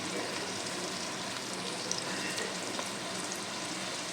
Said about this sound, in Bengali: তো আমি করলাগুলো তেলের মধ্যে দিয়ে দিচ্ছি